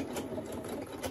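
A sewing machine runs steadily for about a second, stitching fabric for a doll at a 1.5 stitch length, with a continuous close mechanical whir.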